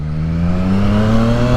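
A Triumph Street Triple R motorcycle engine revs steadily and loudly up close on a New York City street, its harmonic drone holding level and slowly climbing in pitch throughout.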